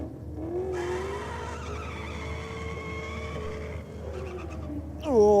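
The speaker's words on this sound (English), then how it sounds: "that Commodore down there in the Aeroflow lane, massive turn of the tyres, a little bit untidy in the first 60 foot of the racetrack" A Holden Commodore drag car launches at a drag strip, its tyres spinning and squealing in a sustained, wavering high whine over engine roar, then a sharp rising screech at the end.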